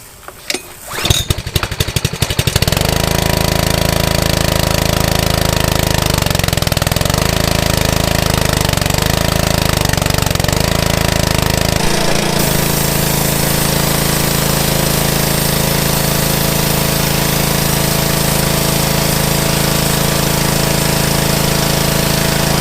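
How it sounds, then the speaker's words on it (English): A repaired curbside pressure washer's small gas engine with a new carburetor and pump sputters, catches and runs loud and steady near by, its tone dropping to a lower, smoother drone partway through. "Well, now I got a working pressure washer"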